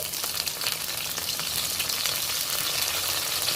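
Pieces of pointed gourd frying in hot oil, a steady, even sizzle with a bright crackle that holds at a constant level from start to finish, close by and alone.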